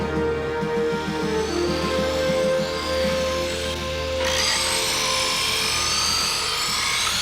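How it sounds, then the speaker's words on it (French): Electric saws cutting into the hull of a rocket in a Tintin cartoon scene, a steady buzzing, grinding drone that swells brighter and harsher partway through, loud and continuous with a rumbling low hum beneath. "Apportez des scies électriques,"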